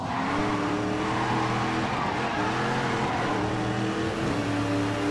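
Race cars roar around a racetrack in a video game, a loud continuous engine drone shifting pitch with brief tire squeal and skidding under the constant rush.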